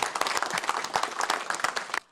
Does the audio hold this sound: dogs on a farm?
no